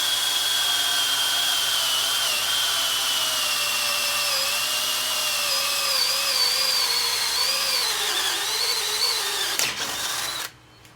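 A power drill bores a hole through a metal pipe for a telescoping TV antenna, whining steadily and close for about ten seconds, its pitch wavering slightly under load before it cuts off abruptly.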